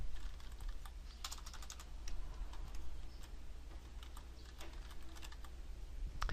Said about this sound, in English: I'm just going to type photography.